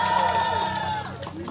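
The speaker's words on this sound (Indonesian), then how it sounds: "Dan mana tepuk tangannya untuk kelas 9I?" Class 9I students cheer and clap during a school class competition, a noisy crowd of children shouting, with a voice carrying over the din before it starts to fade.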